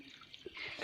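Water trickles from a plastic-bottle tap rigged at a small mountain water source on a temple pilgrimage trail, a faint, steady close trickle with light drips and no voices.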